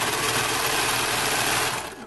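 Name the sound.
sewing machine stitching a seam on a hair bow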